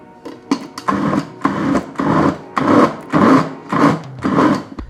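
A small food processor blitzes cut-up kunafa pastry into sand-like crumbs, running in a steady series of loud, rhythmic pulses with a gritty whirring texture, close by and alone.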